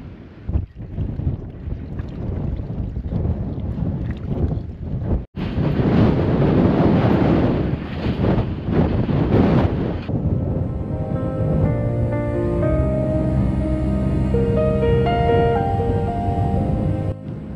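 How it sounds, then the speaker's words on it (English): A strong headwind hits a cyclist during the Munga bike race, roaring and buffeting loudly against the microphone for about ten seconds before easing into a steadier, more tonal drone. "we've got a headwind here. I don't think I've ever actually cycled in a wind like this"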